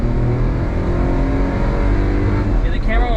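A Daihatsu HiJet S100 kei truck pulls hard in third gear with the air conditioning running, its small engine droning loudly and steadily from inside the cab on a highway.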